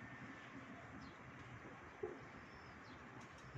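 Pet pigeons coo softly at close range, one short low call standing out against a faint hiss of background noise.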